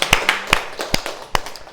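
A church congregation clapping in rhythm, sharp distinct claps in a steady beat about every 0.4 seconds, close and loud with no talk.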